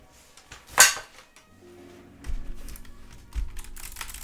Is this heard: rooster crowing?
no